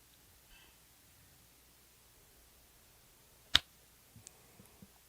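A single sharp hand clap rings out in a quiet room as a recording sync mark, followed by a few faint small clicks and taps.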